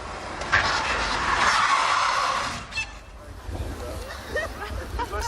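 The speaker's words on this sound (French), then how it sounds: "ce moment où il se gare au frein à main, quoi, en tête à queue" Rally driver Jean Ragnotti throws a car into a handbrake spin, a loud tyre skid sweeping over a couple of seconds before fading into crowd chatter and voices.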